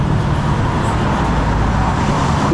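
Street traffic rumbles around a bus, a steady loud low engine drone and road noise close by, with no distinct passes or voices.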